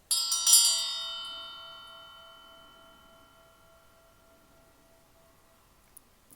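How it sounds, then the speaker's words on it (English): A bell struck once to clear energy, a bright metallic ring that fades slowly over several seconds, heard close and alone. "I'm going to go ahead and ring the bell here to clear out some energy."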